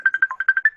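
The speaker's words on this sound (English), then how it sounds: "Somebody's Facebook is ringing." Facebook call ringtone on a phone, a quick run of eight bright electronic beeps in steady rhythm, close and clear with no talk over it.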